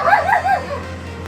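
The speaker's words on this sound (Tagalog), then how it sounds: "Ito yung mga aso, guys." A dog gives a few quick high yips or whimpering barks, close and brief, over a low background hum.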